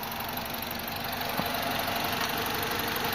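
A BMW E46 engine idles steadily after a timing chain replacement, with a smooth, even drone and a light high whine close by. One soft tap is heard midway and nobody talks.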